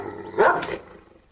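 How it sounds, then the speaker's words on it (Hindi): A dog in an animated story gives one loud, sharp bark lasting well under a second, standing out clearly against quiet background. "जोर जोर से भौंकने लगता है"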